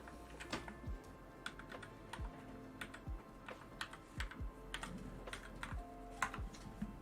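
Soft keys clack on a computer keyboard in scattered, irregular taps and short runs. The typing is close and moderately quiet over a steady background murmur.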